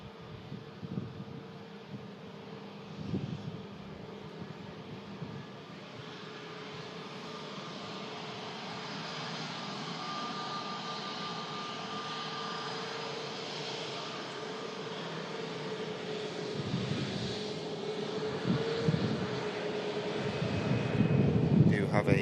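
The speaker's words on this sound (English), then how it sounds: "EasyJet coming in from Copenhagen, as I say" An EasyJet airliner arriving from Copenhagen produces a sustained engine drone that slowly builds in loudness at an airport runway, with someone talking over it at intervals.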